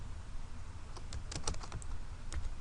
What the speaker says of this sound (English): In cell A2 we're going to type in our name